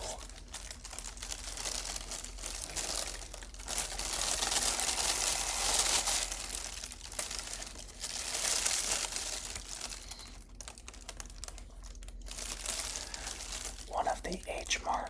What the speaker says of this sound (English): one of the H Mart plastic bags that I wanted to make some crinkles with. So we're gonna crumble it up a little bit.